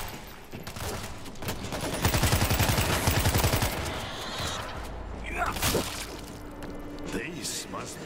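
Bursts of automatic gunfire in the zombie shooter World War Z, with rapid crackling volleys and sharp shots layered over game effects while voices talk throughout.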